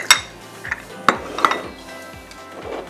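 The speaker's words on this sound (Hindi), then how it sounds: "अब बेसन को भी अच्छी तरह भूनिएगा।" Gram flour (besan) roasting in a pan for halwa, a spoon knocking and scraping against the metal in a few sharp, uneven clinks over a soft background.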